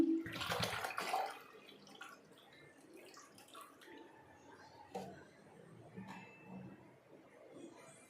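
Water splashes and pours into a vessel, a litre measured out for a homemade Shakar Kola summer drink, with a strong burst at the start and then quieter trickles and small drips nearby.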